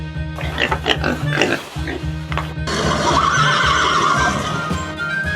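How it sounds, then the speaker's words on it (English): A horse neighs in a children's animal-sound sequence, a loud whinny running through most of the clip over a steady low background beat. "Horse."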